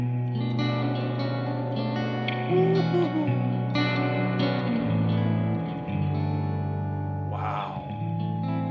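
An electric guitar plays through a Two Rock Joey Landreth amp with the reverb tank turned up high, sustained chords ringing out and blooming into a long, washy tail, close and loud with no talking.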